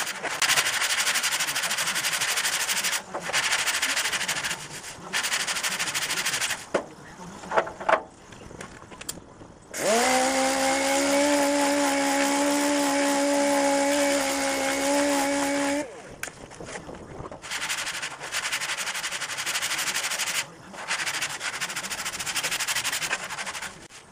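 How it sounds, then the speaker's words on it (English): Raspy bursts of sanding on body filler on a car fender start and stop, with a steady motorized whine in the middle stretch. "You'll see me sanding the second coat, getting all shaped and ready."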